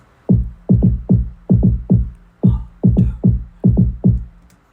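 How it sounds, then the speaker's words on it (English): A steady kick drum rhythm from a song, deep booming thumps falling in quick pairs and singles, eleven hits, loud and close with no voices over them. "And second is this kick drum that has this rhythm."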